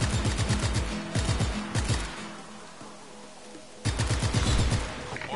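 Heavy gunfire in the open-world action game Just Cause 3 crackles in loud rapid volleys, drops to a quieter lull midway, then bursts back in a fresh barrage.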